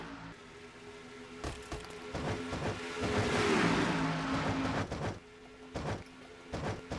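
A tight pack of stock cars races in the Coca-Cola 600 of the NNSCRA Castrol GTX Cup Series. Their engines make a sustained, swelling roar that peaks midway as the pack passes, with sharper bursts and rattles around it.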